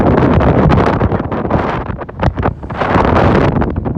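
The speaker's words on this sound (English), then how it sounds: "A little windy." Strong wind buffets the microphone with loud, roaring gusts that rise and fall, briefly easing midway before surging again.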